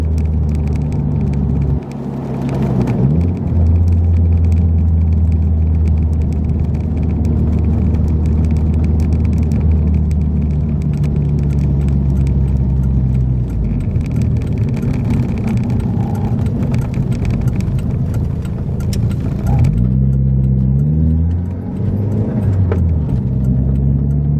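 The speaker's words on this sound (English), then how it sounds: "as soon as we get off this road, I think we're gonna gun it." Mk4 VW GTI with a 1.8-litre turbo engine fitted with a K04 turbo accelerating hard, a loud steady in-cabin engine drone with rising pitch sweeps as it revs through the gears.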